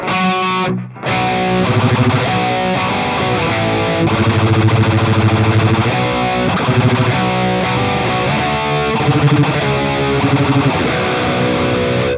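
Thick, distorted electric guitar chords played steadily and loud, ringing out with sustained crunch after a brief pause near the start.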